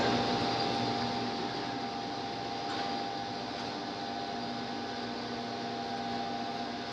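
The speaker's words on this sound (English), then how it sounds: "it's a CNC flat grinder, and what it does is it grinds this bevel" A CNC flat grinder grinds the bevel on a knife blade in a knife factory, making a steady, fairly faint broadband whir and hiss with a faint tonal hum and no breaks.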